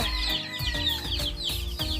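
Rhode Island chickens cluck and squawk close by in a busy flock, with overlapping short repeated calls and a rooster-like note mixed into the steady barnyard chatter.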